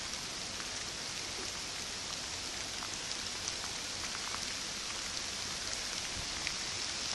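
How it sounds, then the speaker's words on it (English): Steady rain falls on a flooded lakeside parking lot, a continuous dense patter of drops hitting water and pavement, even in level with scattered sharper drips and no voices. "And it's still raining right now."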